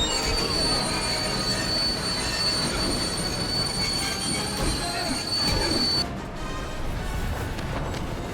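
A train in the LEGO Marvel's Avengers video game brakes with a sustained high metallic wheel squeal over steady rumbling rail noise, cutting off abruptly near the end while the rolling rumble continues.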